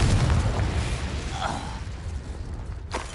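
A Confringo blasting spell explodes in Hogwarts Legacy with a deep boom that decays into rumbling debris, followed by a sharp crack near the end.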